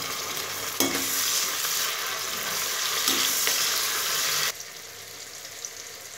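Tomatoes frying in a spiced tempering of cumin, garlic, onion and ginger for a cauliflower dish, with a steady close sizzle, a couple of stirring scrapes, and the frying noise cutting off abruptly near the end.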